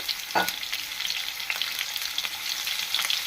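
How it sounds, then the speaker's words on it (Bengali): Small new-season potatoes fry in a pan with a little salt and turmeric, giving a steady close sizzle with light scraping stirs now and then, no voices. "আলুগুলো একটু অল্প করে লবণ আর হলুদ দিয়ে লাল করে ভেজে নিতে হবে"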